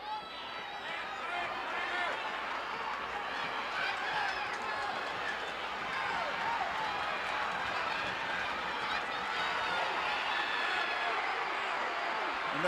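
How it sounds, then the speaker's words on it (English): A wrestling crowd in Houston screams and roars in a dense, steady wall of voices that builds slightly louder over time, heard from within the arena under a commentator's talk. "And the crowd is screaming for Tiger to let loose"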